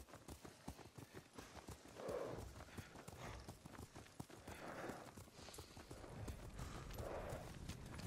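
Horse hooves clip-clopping at a steady walking gait in a Ghost of Tsushima ride, soft and moderately close, with a low ambient bed and an occasional faint snort.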